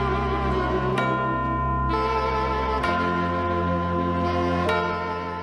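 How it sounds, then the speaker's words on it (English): Auld Lang Syne, the New Year's Eve song, played as a full, steady musical recording with sustained harmonies and a low bass, loud and continuous throughout. "This is Auld Lang Syne, a song that represents the emotional conclusion to another year."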